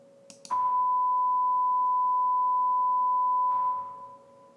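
A steady pure sine tone sounds through a linear time-invariant system with added reverberation: a brief click onset, then a sustained even tone for about three seconds, ending in an audible reverberant tail as it dies away.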